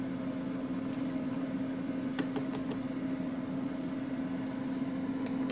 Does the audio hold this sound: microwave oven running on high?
yes